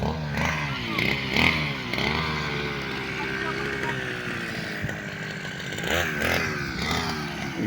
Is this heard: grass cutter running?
yes